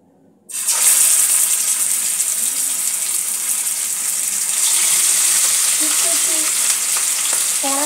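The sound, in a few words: katla fish frying in mustard oil in a kadai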